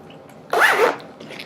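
A zipper on a Petunia Pickle Bottom diaper bag is pulled closed in one quick, close, rasping sweep, followed by a faint rustle of fabric.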